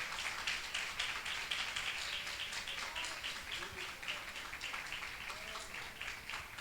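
Congregation at a church prayer service applauding, a dense steady patter of many hands clapping throughout, moderately distant, with faint voices mixed in.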